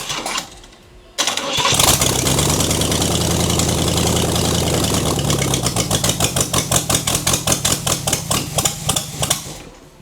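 A 500ci big block V8 cranks and catches, then runs rough and violently without firing on all eight cylinders, loud and close, its uneven idle breaking into a pulsing, stumbling rhythm of heavy beats in the second half.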